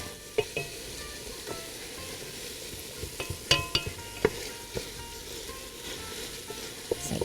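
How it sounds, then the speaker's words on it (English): Lamb stew browns in a pot with a soft continuous sizzle, punctuated by repeated sharp clicks and scrapes of a utensil stirring against the metal, irregular and close. "So keep stirring."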